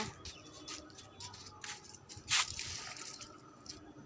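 Water is poured onto a plant: faint drips and soft trickles, then a brief louder splash partway through, against a quiet background.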